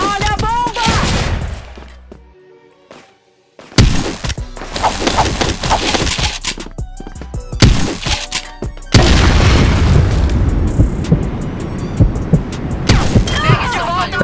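Bomb explosions in the online shooter CrossFire: deep, loud booms with crackling debris and gunfire bursts, a brief near-silent gap, then another heavy blast rolling into sustained rumbling chaos.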